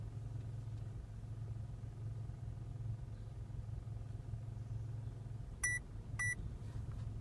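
Two short high electronic beeps from a CarDroid OBD2 device plugged into a car's diagnostic port, sounding over a low steady engine idle rumble.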